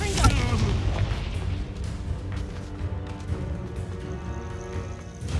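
A Confringo spell explodes in Hogwarts Legacy, opening with a loud booming blast followed by a rumbling, crackling tail that slowly fades over several seconds.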